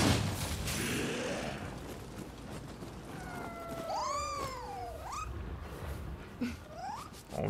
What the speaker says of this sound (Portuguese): Esse gatinho.